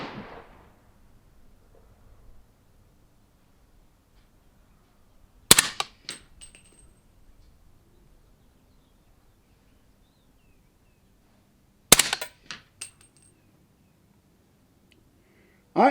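Two sharp suppressed shots from 300 Blackout rifles firing 220 grain rounds, spaced several seconds apart outdoors, each a crisp crack followed by brief echoing clatter, with a third report starting at the very end.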